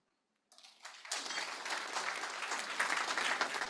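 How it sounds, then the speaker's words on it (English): After silence, conference audience applause starts with a few claps and swells within a second into a full, steady round of clapping that holds at a moderate level to the end. "Again, a warm round of applause, please."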